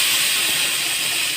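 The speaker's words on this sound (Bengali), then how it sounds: "এবার কালো জিরে আর পেঁয়াজ আর কাঁচা লঙ্কাটা দিয়ে দেব।" Nigella seeds, sliced onion and green chili sizzle in hot oil in a pan, a loud, steady close-up hiss with no break.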